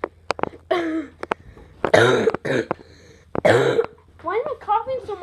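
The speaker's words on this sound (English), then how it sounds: "Why am I coughing so much?" Several harsh coughs and throat clearings come in short, uneven bursts, loud and close, with a couple of spoken words mixed between them.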